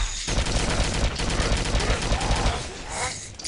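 Dense, continuous rifle fire from an FN FAL in the survival game DayZ. A loud, unbroken burst fills the clip, with a brief dip near the end.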